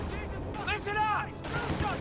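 Pathfinders firing on Assault Grenadiers in a strategy video game: a short burst of gunfire with sharp cracks and ricocheting whines, moderately loud against battlefield ambience.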